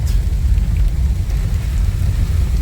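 Heavy, steady rain on a wet, steep road without guardrails during an Alaska drive, a dense continuous wash with deep low rumble from the moving car, loud and unbroken.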